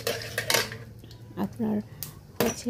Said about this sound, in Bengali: আমি এটাকে নেড়ে চেড়ে নেব।